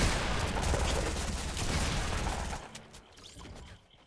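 Dense, loud gunfire in Fortnite fills the opening seconds with a continuous burst of shots, then thins into scattered fainter pops before fading out.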